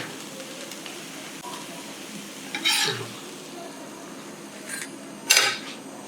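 Chapati cooking on a pan, pressed down with a ladle on all four sides so it puffs up: a low steady sizzle under two brief louder bursts of scraping and sizzle, with no talk.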